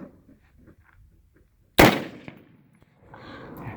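A single sharp AR-15 rifle shot fired through a red dot sight, loud and close, cracking out of near silence and then trailing off into low room noise and faint rustling.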